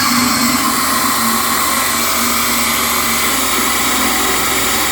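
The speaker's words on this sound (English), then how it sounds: "here's our 1-inch Forstner bit, and you're going into some hardwoods and stuff like that with it." A subcompact cordless drill on full battery at speed 2 bores hardwood with a 1-inch Forstner bit, giving a loud, steady, unbroken whine with no pauses or talk.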